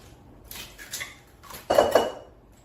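Two eggs cracked and dropped into a bowl for pumpkin dump cake, a few close clinks and taps against the bowl in two brief bursts, the second louder, with no talking.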